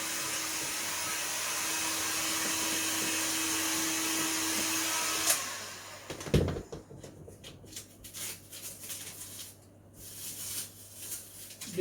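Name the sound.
heat gun blowing to flash off paint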